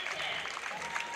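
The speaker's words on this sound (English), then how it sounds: "let's listen to the applause." Applause from a crowd along an afternoon Patriots' Day parade route, a brief burst of steady clapping heard over a noisy outdoor background.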